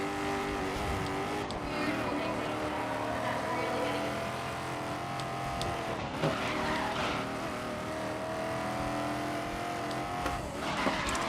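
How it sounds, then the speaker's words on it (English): Race car tires squealing steadily during drifting in a racing video game, heard together with a continuous engine roar that holds constant throughout, loud and unbroken across the whole stretch. "Can you hear those tires? I feel like I want to drift my own car."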